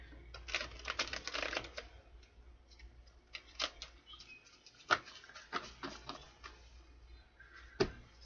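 Tarot cards riffle and snap in quick bursts, a flurry of crisp flutters followed by scattered taps and slaps as the deck is handled, close and quiet.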